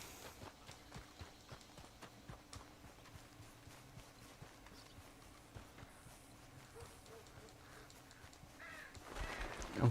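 A horse's hooves clip-clop at a walking pace in a video game, faint and steady, with crows cawing over it and a louder swell near the end.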